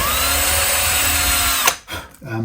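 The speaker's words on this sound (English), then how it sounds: "I'm going to drill a hole right the way through" Power drill boring a hole straight through a left-handed vintage Stratocaster guitar body, a loud steady whine that runs for over a second and a half, then cuts off abruptly, followed by brief clatter and a short spin-down.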